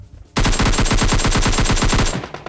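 Rapid automatic gunfire in the mobile battle-royale game PUBG Mobile: a loud, close burst of about two seconds of evenly spaced shots, then quiet.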